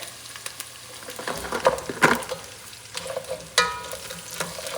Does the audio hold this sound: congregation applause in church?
no